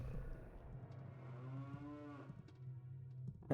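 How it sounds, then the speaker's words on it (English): Cattle moo from far off in Ocarina of Time, one long, low, drawn-out bellow that swells and bends in pitch over a steady hum of game ambience, fairly faint and heard alone. "The cows mooing in the distance is so fucking weird."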